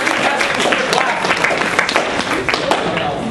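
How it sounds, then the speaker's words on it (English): Lively clapping and cheering from a small audience greets game-show contestants, brisk and close, mixed with overlapping voices throughout the short burst. "we should actually clap for our contestants"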